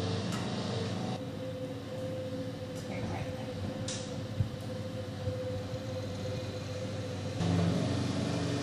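A computerized rotational casting machine by Mannetron runs with a steady mechanical hum and whir, its low drone shifting slightly as it starts turning, with a small clunk partway through.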